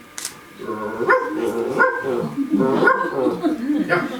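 A man imitates a barking dog on stage during a storytelling performance, giving several yelping, bark-like vocal bursts in a steady series, close and fairly loud, with a brief crowd noise at the start.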